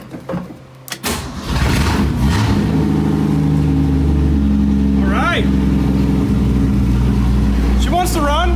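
A 1965 Ford Mustang restomod fires up from a cold start in chilly weather. The starter cranks briefly, then the engine catches into a loud, steady idle with a couple of throttle blips, and someone talks over it.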